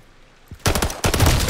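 Pistol shots ring out in a video game, two sharp loud bursts close together after a brief quiet start.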